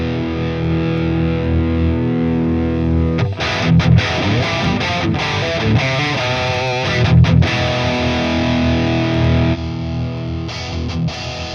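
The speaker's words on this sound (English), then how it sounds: "I inverted the phase of the Royer 121 mic." A heavily distorted electric guitar through a cabinet, miked with a Royer 121 ribbon mic flipped out of phase, playing dense chugging riffs with brief stops, loud and continuous, with no voices.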